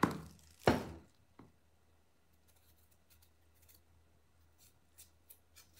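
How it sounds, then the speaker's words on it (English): A kitchen knife cuts through a daikon radish with two sharp, close chops at the start and a few lighter taps afterward over quiet background. "I'm going to cut this daikon radish as well"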